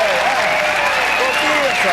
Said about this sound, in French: on l'applaudit, on l'applaudit